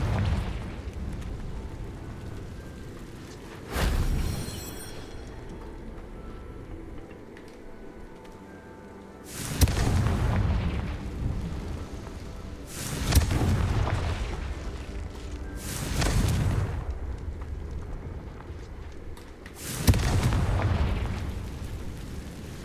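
Fiery spell blasts from the Confringo curse in the Hogwarts Legacy video game, five loud booming explosions spaced a few seconds apart over a steady low rumble.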